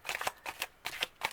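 Tarot cards being shuffled by hand, a quick run of crisp riffling bursts coming in three close, fairly quiet pulses.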